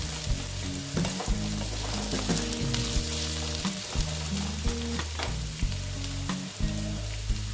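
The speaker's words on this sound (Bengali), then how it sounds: "আমি একবারে নারকেল সোমবার দিয়ে সব একসঙ্গে ভেজে নিচ্ছি" Banana flower fries in a pan together with coconut and potatoes, giving a continuous loud sizzle broken by regular stirring and scraping strokes, with no voices.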